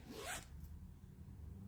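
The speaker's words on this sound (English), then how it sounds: "Zipper works great." A zipper on a used Vera Bradley bag is pulled in one quick, close rasping stroke, then a faint short tug, followed by quiet room hiss.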